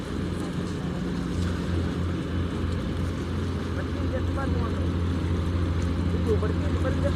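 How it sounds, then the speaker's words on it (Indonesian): Army ship 592 Banjarmasin getting under way near Makassar, a steady low engine drone with wind and water noise, continuous and fairly close throughout. "Dan disinilah kapal yang sudah mau jalan untuk melewati perbatasan"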